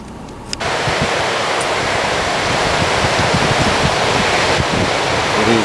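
Steady broadband wash of surf rolling onto a beach on a summer evening, a continuous close roar that holds without breaks.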